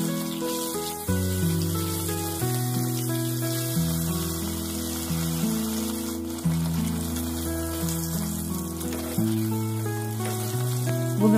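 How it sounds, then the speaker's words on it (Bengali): Kathla fish, rubbed with salt, turmeric and chili powder, fries in hot oil with a steady, continuous sizzle. Background music plays prominently over it. "প্রথম মাছগুলোকে আমি নুন, হলুদ, লঙ্কা পাউডার দিয়ে ভালো করে মেখে ফ্রাই করব"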